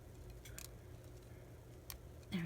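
Scissors snip the end off a small eraser tassel, a couple of brief, quiet, close cuts separated by near silence.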